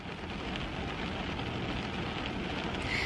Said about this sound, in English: You could probably hear the rain.